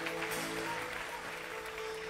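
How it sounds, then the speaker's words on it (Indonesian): Faint applause from a church congregation, a soft steady patter of clapping under a low sustained musical hum. "Tepuk tangan bagi Tuhan Yesus."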